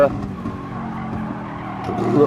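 A race car brakes hard into a corner on the Nürburgring GP circuit during qualifying, engine note dropping with a brief tyre skid, close and steady under faint talk.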